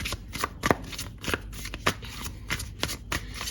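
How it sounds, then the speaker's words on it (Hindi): Tarot cards are shuffled by hand in quick, close riffling bursts, a crisp papery flutter repeating steadily for a few seconds. "सबसे पहले मैं यहाँ से कुछ कार्ड आपके बारे में निकालती हूँ।"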